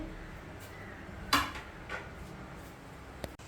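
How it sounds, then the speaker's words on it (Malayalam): A single metallic clank as a cooking pot of duck curry is shifted and set down, followed by a couple of faint knocks in a quiet room. "പാത്രം അങ്ങോട്ട് മാറ്റി വെക്കട്ടെ"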